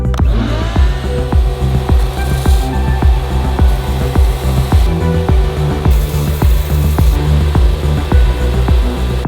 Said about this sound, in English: The easiest and fastest way to flatten the tip of your bow is gonna be with a belt sander.